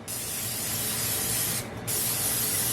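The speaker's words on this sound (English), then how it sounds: "I'm going to spray the inside of the spaghetti squash." A steady, loud hiss of aerosol cooking spray from a can onto the inside of a spaghetti squash, continuing with a brief pause near the end before resuming.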